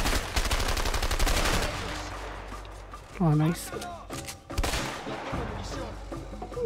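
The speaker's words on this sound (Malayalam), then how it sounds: "Oh, I hate this shooting, man." Gunfire from a shootout in the video game A Way Out: a dense burst of rapid shots up front, a short voiced exclamation, then further volleys, with people talking at moments.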